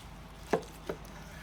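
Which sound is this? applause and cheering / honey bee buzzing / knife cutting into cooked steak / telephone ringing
knife cutting into cooked steak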